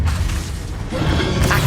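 Fiery Confringo blast spell in the Hogwarts Legacy video game, a short low rumbling boom with a crackling burst, loud and full, lasting under two seconds with no talk.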